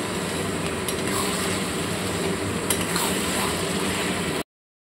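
Mutton is stir-fried over a high flame, giving a continuous faint sizzle with scraping clicks from stirring, then cutting to silence near the end.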